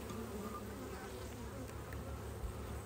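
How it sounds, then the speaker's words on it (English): Dense, steady buzzing of many honeybees massed in the corner of an open beehive full of nectar and brood, a continuous close-up hum with no pauses. "there's a lot of bees down there in the corner"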